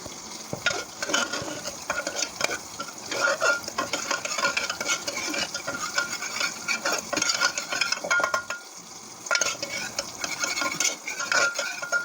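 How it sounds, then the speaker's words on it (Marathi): Tomatoes with turmeric are stirred in a sizzling pan while cooking for a dal dish, with steady scraping and frying sounds, some light utensil clinks, and no talking. "टोमॅटो छान मिक्स करून घेऊया दोन मिनटं शिजू देऊया"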